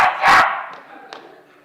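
A single sharp, breathy sneeze bursts out near the start, followed by quieter room sound and faint talk-like murmurs.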